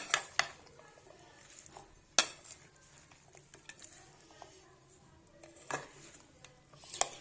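Chana chaat being mixed in a bowl with a spoon, soft stirring scrapes punctuated by a few sharp clinks of utensil against the bowl, close and fairly quiet with no talking.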